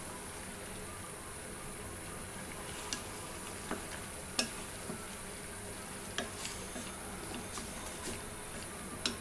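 Whole garam masala with bay leaves and cardamom sizzles steadily in hot oil for a Bengali hard chicken curry, a constant crackling hiss broken by scattered sharp pops and ticks.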